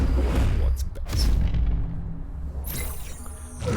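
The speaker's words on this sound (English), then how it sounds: "Be aware of the explosions here." Explosions and artillery blasts in the turn-based strategy video game Into The Breach, heavy rumbling booms with sharp bursts and a rising whine near the end, loud and layered over continuous game sound.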